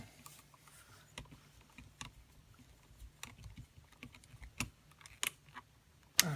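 A screwdriver tightening a screw on a wall outlet, giving faint, close, irregular small clicks and scrapes spread over several seconds, with a sharper knock near the end.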